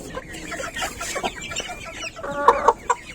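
American Brahma chickens cluck at a crowded poultry market in Bangladesh, sending out short irregular clucks and a few sharper squawks close by over faint market bustle.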